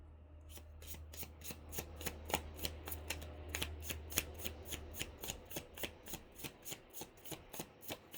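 Tarot cards are shuffled in a brisk riffle, a long run of crisp, evenly spaced snaps that speeds up and grows louder. The sound is close and clear over a low background hum, with no talking.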